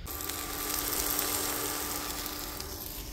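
Strawberries and cream cooking over an outdoor campfire, producing a steady close hiss and bubbling sizzle with faint crackles, continuous and even throughout.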